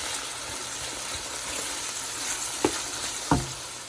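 Ground beef frying in extra virgin olive oil, a steady close sizzle with two sharper pops or stirring clacks near the end.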